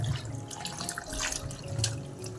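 Tap water runs steadily over mangoes being washed in a sink, a continuous splashing and trickling wash with small drips, fairly close and without talk.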